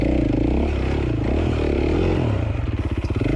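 Enduro motorcycle stuck in a small ravine during a hard enduro race, engine revving and bogging in uneven bursts with clattering, ending in rapid pulsing throttle blips close by.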